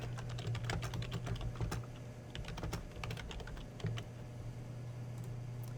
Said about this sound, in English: I'm just going to type the new name